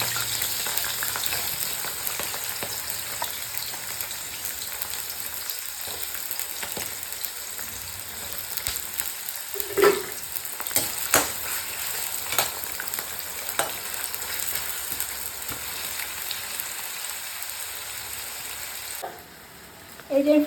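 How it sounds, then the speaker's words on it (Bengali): Capsicum, carrot and potato fry in a pan seasoned lightly with salt and turmeric, producing a steady loud sizzle with occasional stirring clatters that ends in a brief quiet at the close. "এই যে ফ্রাই করে নিয়েছি ক্যাপসিকাম আর গাজর আর আলু।"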